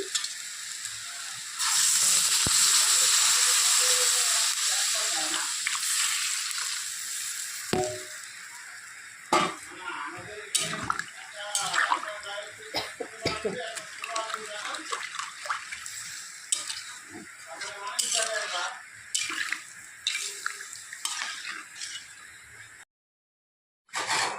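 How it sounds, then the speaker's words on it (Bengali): Tomato-sauce gravy for a vegetarian paneer curry boils in a pan, opening with a loud steady sizzling hiss that settles into bubbling, with scattered clinks and scrapes of stirring; no one speaks. "ঝোলটা উতলে গেছে"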